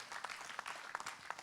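Short burst of audience applause at an Islamic lecture event as a speaker, Ustadz Abi Maki, is called up; a few sharper claps stand out over a steady patter, moderately loud and briefly sustained.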